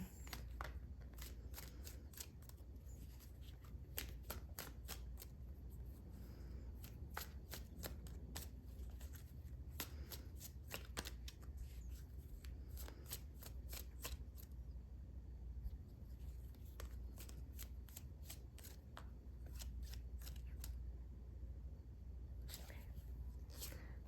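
Tarot cards being shuffled at close range, with a long run of quick crisp riffling flicks and soft slides, nearly continuous with brief pauses, over a quiet room background.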